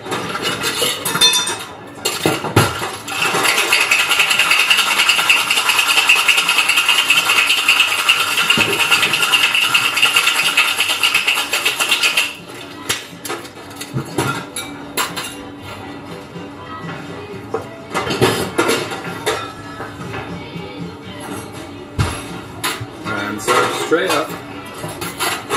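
A gin cocktail made with Porter's gin is shaken hard over ice in a metal shaker, giving a loud, steady rattle for about ten seconds. Softer clinks, taps and bar handling noises follow.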